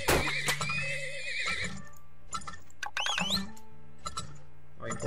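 Horses neigh in the oil-rush strategy game Turmoil. Several high, wavering whinnies come in quick succession over a low, steady background hum, close and clear with no talking.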